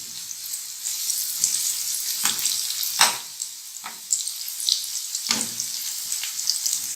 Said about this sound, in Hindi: प्याज और मिर्चों का कलर कुछ अच्छा सा हो जाएगा, फ्राई हो जाएंगे